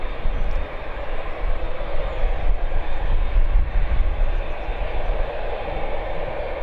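A Boeing 787 Dreamliner at Birmingham Airport produces a continuous, loud, broadband engine roar that holds steady and close for several seconds with no speech.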